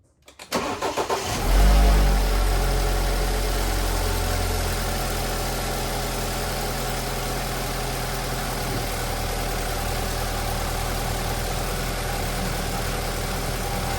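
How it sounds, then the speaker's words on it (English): A BMW 528i with the N20 engine cold-starting, catching after a brief crank and then settling into a steady, even idle that holds loud and close with no other sounds. "And this is cold start. Engine is completely cold. And it sounds completely good."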